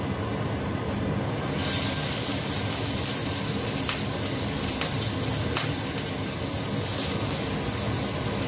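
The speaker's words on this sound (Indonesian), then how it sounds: "Goreng ikan ini." Fish frying in hot oil in a home kitchen gives a continuous crackling sizzle with scattered sharp pops, fairly close and steady, with no talking.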